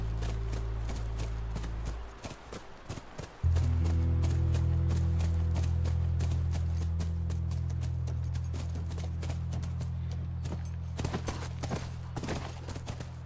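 Horse hooves clip-clop steadily in The Last of Us video game, a loud, close rhythmic plodding over a low droning background that continues throughout.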